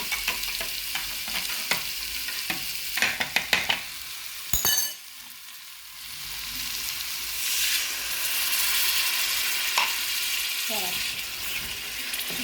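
Masala being stirred and sautéed in a frying pan for a Bangladeshi home dish, with scraping spoon strokes and a bursty sizzle, briefly loud clatters early on, then a steady hiss of frying over a faint voice.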